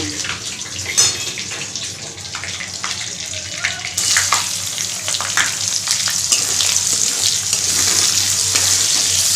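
Chopped onion frying in hot oil with whole spices, a loud continuous sizzle that swells partway through, broken by frequent scraping stirs, with no voices.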